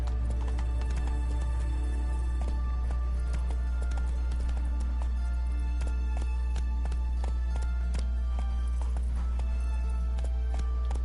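Roach the horse gallops in The Witcher 3, a steady rapid clip-clop of hooves over a loud constant low rumble and layered game music, with no break for the whole stretch.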